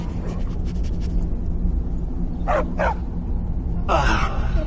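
Short bursts of barking from a small dog in a PS4 game, two quick yips followed by a louder one, over a dense, steady game background with music.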